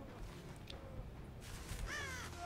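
A crow caws in the horror video game Dead by Daylight, a short faint call rising over a quiet ambient background.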